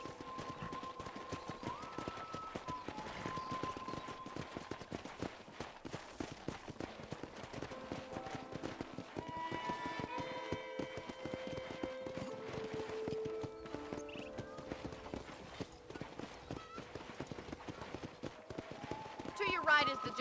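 Horse hooves clip-clopping in the Red Dead Redemption video game, a steady rhythmic trot under game music and dialogue, with speech heard throughout.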